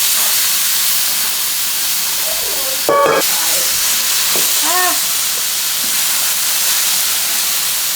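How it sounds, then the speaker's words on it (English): Loud, steady sizzling hiss of a burger patty frying in a hot cast iron pan, with a brief clatter partway through. "when I add that, it's gonna be sizzling like crazy"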